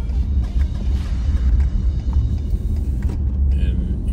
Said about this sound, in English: The traffic is, I would say, medium traffic.